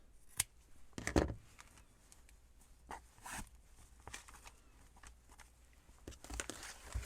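Scissors trimming brown sari silk for a junk journal cover, giving a few sharp snipping cuts with soft rustling of fabric between them, close and fairly quiet.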